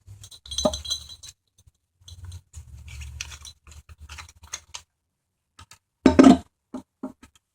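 Channel-lock pliers work loose a fitting on a Sloan flushometer toilet flush valve during a rebuild. There are scattered sharp metallic clinks and scrapes, with one louder burst of clatter partway through, all separated by quiet gaps.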